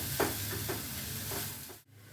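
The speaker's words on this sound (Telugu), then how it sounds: "ఇది వేగిపోయింది, ఇలా వేగిపోయింది కదా." Fenugreek seeds frying in a pan for a tamarind leaves pickle, a soft continuous sizzle with a few light stirring scrapes, quiet and close, ending with a brief pause.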